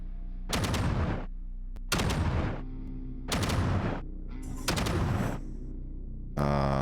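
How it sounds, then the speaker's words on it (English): Four loud, evenly spaced blasts, then the start of a fifth, erupt in the video game Quasimorph as explosives try to blow a hole in a wall, each a sharp burst with a short crackling tail, heard alone. "let's blow a hole in this wall"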